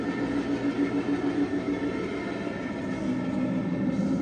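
A 1/24-scale Cape gauge Gauge 1 model of a Class 34 GE U26C diesel locomotive running, giving a steady, deep engine rumble with a low droning hum that holds continuously and close by, with no talking.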